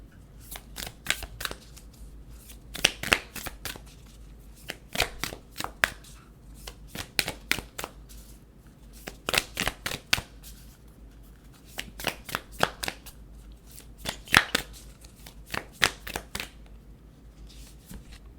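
Moonology Oracle cards are shuffled by hand in repeated quick riffling bursts with short pauses between them, close and fairly quiet.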